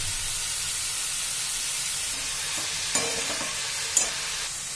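Cabbage stir-fried and mixed in a hot pan, with a constant hissing sizzle and a couple of sharp utensil knocks toward the end.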